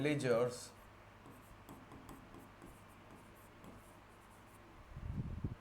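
Chalk or marker strokes scratch faintly on a classroom board in short bursts, quiet and close, following a brief spoken phrase from a teacher at the start.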